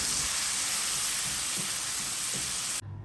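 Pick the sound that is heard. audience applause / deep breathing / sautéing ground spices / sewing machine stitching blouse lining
sautéing ground spices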